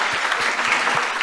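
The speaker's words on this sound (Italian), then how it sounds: "Un applauso" An audience of young people applauds in a steady, dense wash of clapping that sounds fairly close and lasts the whole moment, with no voices on top.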